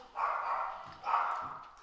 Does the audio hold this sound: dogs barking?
yes